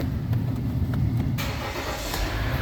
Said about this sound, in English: let me start this car.